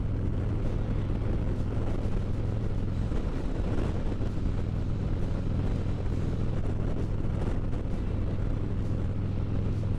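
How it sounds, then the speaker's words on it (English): Wind roars into the microphone in a headwind on a Harley Road Glide touring motorcycle, a loud, continuous rush over an engine drone that never lets up for the whole stretch. "Complete headwind right now, and you can probably hear me fine."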